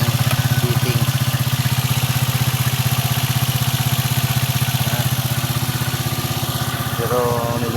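Steady, loud idling of a Rusi TC125 motorcycle engine with a faulty, misfiring carburetor, a fast even putter close by that runs throughout with a slight change near the end.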